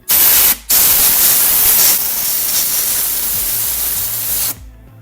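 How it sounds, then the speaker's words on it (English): A small compressor's air line blasts compressed air onto the cam cover of a V12 Ferrari 456. A loud, close hiss cuts off briefly, then returns and runs steadily for several seconds before stopping. "This is my airline. It's not even a powerful one. Tiny little compressor."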